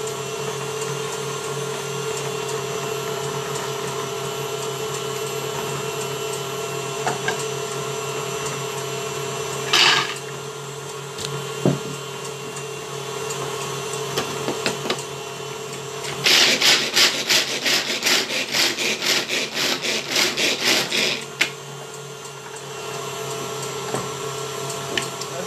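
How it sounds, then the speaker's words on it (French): Manual pull-cord chopper chopping almonds in a kitchen, a steady whirring and rattling grind with several louder bursts of fast clattering spins toward the middle, fairly close and without talk. "Je vais hacher les amandes."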